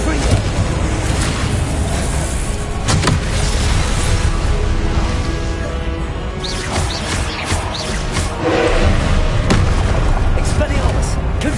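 Confringo blasting spell explosions in Hogwarts Legacy, booming crashes over a loud, continuous wash of combat noise with repeated bursts, while a voice speaks.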